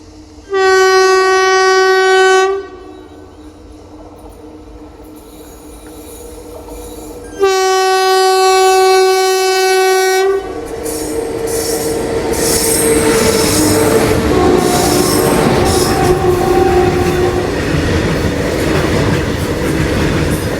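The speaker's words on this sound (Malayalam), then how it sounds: "ഹോണിൻ്റെ സൗണ്ട് കേട്ട് നോക്കിയപ്പോഴാണ് ഒരു ഗുഡ്സ് ട്രെയിനാണ് ആ വരുന്ന അങ്ങ് ദൂരേന്ന്" A goods train near Ettimadai railway station on the Tamil Nadu–Kerala border sounds two long, loud horn blasts, then rumbles past close by with squealing wheels and clattering wagons.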